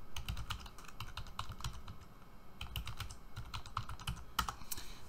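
Someone types a password on a computer keyboard while installing FreeNAS 11.2, producing quick, irregular bursts of close, crisp key clicks with short pauses between them.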